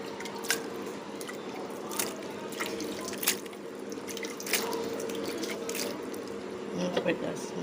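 Idli ingredients are rinsed with water, giving soft close drips, splashes and trickles that recur irregularly over a steady faint background.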